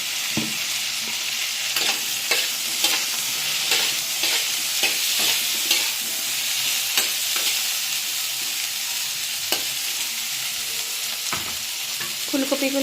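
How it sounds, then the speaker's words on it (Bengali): Cauliflower florets frying with a pinch of turmeric in a pan make a steady, close sizzle across the whole clip, with repeated stirring scrapes and clatters breaking through it. "সামান্য একটু হলুদ দিয়ে ভেজে নেব ফুলকপিগুলো।"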